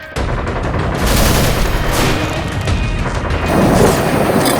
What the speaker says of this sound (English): Artillery! Down!